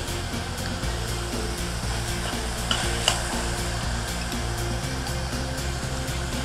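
About half a jar of pepper jelly hits a hot pan for a spicy sauce, and a loud, continuous sizzle fills the space close up. Faint stirring scrapes run beneath it, and no one speaks.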